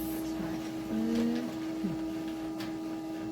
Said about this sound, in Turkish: Şimdi aynı yazıyı yazdırıyorum.